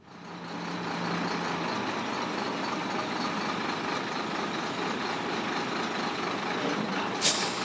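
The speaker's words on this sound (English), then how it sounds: "To test the bridge's load capacity, 48 35-ton trucks line up in ceremonial fashion." Heavy 35-ton trucks lining up for a bridge load test give a steady, dense engine drone and idling rumble, continuous and fairly close, with a brief hiss of air near the end.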